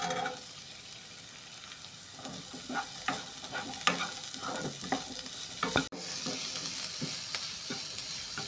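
Onion, green chilli and carrot sizzle steadily in a pan for vegetable biryani, with irregular scraping stirs and utensil knocks over the constant frying hiss, close and clear, no talking.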